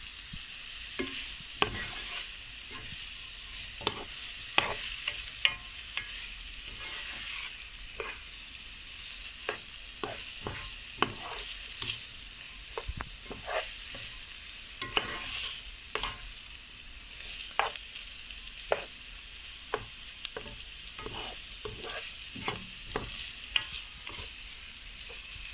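Tomatoes stirred and sautéed in a sizzling pan, added for an eggplant-in-shrimp-paste dish, with a steady fry hiss broken by frequent sharp scrapes and clicks of a utensil against the pan throughout.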